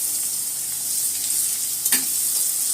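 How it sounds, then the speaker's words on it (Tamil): Garlic and chili powder frying in oil for a broccoli fried rice, a steady close sizzle and hiss throughout with a brief clink of stirring near the end and no talking. "பூண்டை போட்டு ஃப்ரை பண்ணிக்கலாம். மிளகாத்தூள் போட்டு நல்லா ஃப்ரை பண்ணிக்கலாம்."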